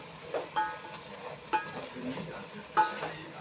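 Oil-free kienyeji chicken being stirred in a hot pot, with three distinct scraping stirs at a steady pace over a soft, steady sizzle and no voices.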